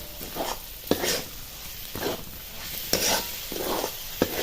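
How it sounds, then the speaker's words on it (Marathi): A spoon stirs peanut paste into flat beans cooking in a pan, with steady rhythmic scraping strokes about once a second over a soft, continuous sizzle, close and alone without any voices. "हे चांगलं मिक्स करून घ्यायचं"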